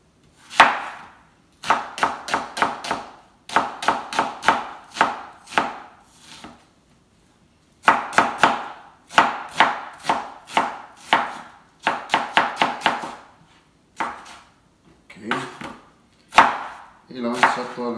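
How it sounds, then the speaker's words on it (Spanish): A knife chops a small red onion on a cutting board in quick rhythmic runs of sharp taps, close and clear, with short pauses between bursts and no voices. "vamos a empezar a picar las cosas, señores. Vamos a la cebollita. La cebolla morada."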